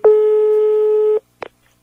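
A single long telephone tone rings out loud and clear during a prank phone call, then cuts off and is followed by a brief click.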